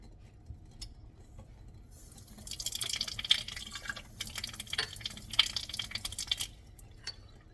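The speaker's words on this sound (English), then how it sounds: "very carefully cover that with water" Tap water runs into a test tube set in a beaker, starting with faint drips and then giving a brighter splashing trickle in two or three short bursts, close and fairly quiet.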